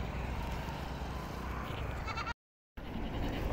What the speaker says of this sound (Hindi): ये भाई पहले नंबर वाला आपका बकरा